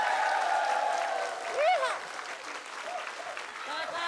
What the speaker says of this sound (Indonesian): Kita berikan tepuk tangan yang paling meriah untuk Oki Lukman.